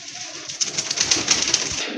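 A pair of Raj gola pigeons, one a vivid red, makes soft close-range fluttering and faint rustling sounds over a steady background hiss, with no voices.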